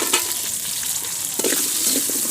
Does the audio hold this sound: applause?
no